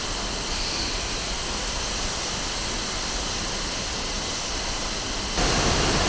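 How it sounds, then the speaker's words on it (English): Weisteid waterfall in Meghalaya roars with a dense, constant rush of falling water, loud and close, with a slight surge in level just before the end. "Weisteid waterfall."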